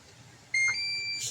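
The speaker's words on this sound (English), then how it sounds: "I'm going to hit the power on the unit. And it'll beep." An EcoFlow Delta Pro 3 power station gives a sharp beep when switched on, then holds a sustained high electronic tone before a brief final chirp, heard close and clear over quiet background.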